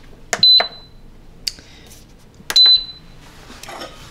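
Pressure cooker control panel beeps as saute mode is switched on: two short, bright electronic beeps about two seconds apart, each preceded by a button click, close and clear in a quiet kitchen.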